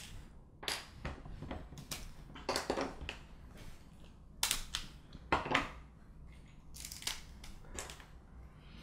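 A cooked lobster is pulled apart into pieces by hand, giving a series of sharp cracks and crunches of shell at irregular intervals, fairly quiet and close, with no talking.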